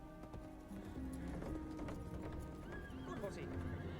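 A horse in a scene from the 1999 film Sleepy Hollow, its hooves clip-clopping steadily while it neighs and whinnies, close and loud, mixed with voices and background music.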